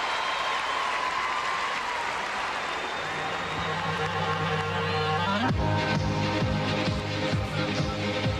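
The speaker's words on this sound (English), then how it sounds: "that is applause from when Dominique Dawes vaults" Crowd applause fills a gymnastics arena during a women's competition, steady broadband clapping throughout that swells louder about halfway through, with a commentator talking over it.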